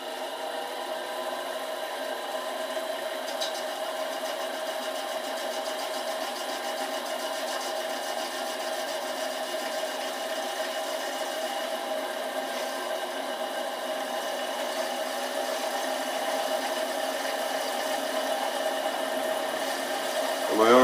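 A Chinese mini lathe turns at about 500 RPM, a steady mechanical whir and hum with faint rattling that runs unbroken for the whole stretch at moderate loudness.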